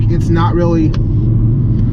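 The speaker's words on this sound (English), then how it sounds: "just with normal cruising, there's a decent amount of road noise" Steady low road rumble from a 2021 Kia Forte LX-S cruising at speed, loud and constant, with someone talking briefly over it.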